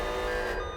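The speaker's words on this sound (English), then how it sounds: "I was interrupted by the sound of an alarm blaring all around us." A steady electronic alarm tone blares continuously, a loud sustained beeping drone filling the whole short moment without a break.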